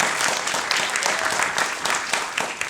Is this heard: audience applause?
yes